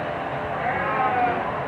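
A ram or mountain goat bleats at a county farm fair, a faint, wavering call sitting low in a steady crowd and barn hubbub for under two seconds.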